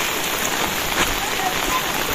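Steady, dense rain pours down close by in a remote Sumatran village, a continuous broadband hiss without pause for the whole stretch.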